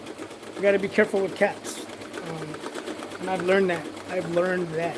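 Embroidery machine stitching a cap at 600 stitches per minute, a rapid mechanical whir running steadily beneath someone talking over it.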